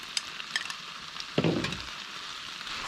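Shelled potatoes go into a hot pan of mince mixture and set off a short burst of louder sizzling and scraping after scattered light clicks and ticks.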